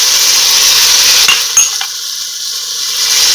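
Chicken fried rice stir-frying in a pan with white vinegar, soy sauce and green onion whites, a steady loud sizzle with a few clinks and scrapes, the hiss dropping off briefly midway before building again.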